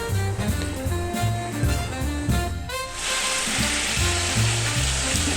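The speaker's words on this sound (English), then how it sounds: "I'm going to stir stuff around so it gets a little bit of a crust on it" Asian sticky ribs sizzle and fry steadily in a hot pan, with scraping stir strokes breaking in at a loose rhythm; a brighter, hissier burst of frying swells up partway through and holds, loud and close, with no talking.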